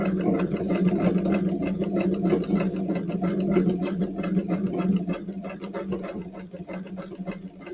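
A sewing machine stitches steadily across the top of fabric, its needle ticking in a fast, even rhythm with a low motor hum underneath, close and uninterrupted.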